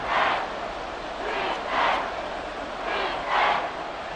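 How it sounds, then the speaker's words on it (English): Crowd noise in a Madden 25 video game stadium during a Browns versus Commanders game, a continuous roar that swells and fades in repeated waves, steady and fairly loud with no speech over it. "this crowd doing their best to make a lot of racket"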